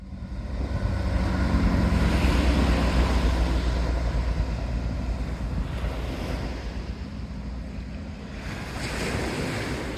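Strong wind gusts buffet the microphone during a drone landing, a loud, continuous broadband roar that swells and eases slightly, with no voices.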